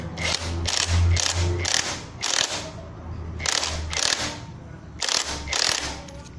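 An air impact gun tightens the clutch nut on a Yamaha TZM 150 motorcycle, firing in several loud rattling bursts with short pauses between them.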